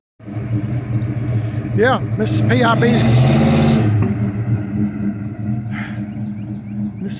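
A 1984 Chevy C10 pickup engine catches after a brief crank, revs up with rising and falling whines, then settles into a loud, steady idle close by, with someone speaking briefly.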